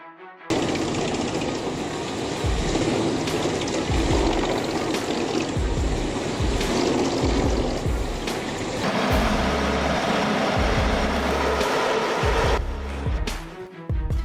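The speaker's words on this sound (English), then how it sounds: "Two John Deere tractors work together in heavy chipping operations." Two John Deere tractors work a wood chipper on forest residue, a loud, sustained machine roar broken by heavy knocking and crunching bursts as material feeds through, with a few sharp clatters near the end.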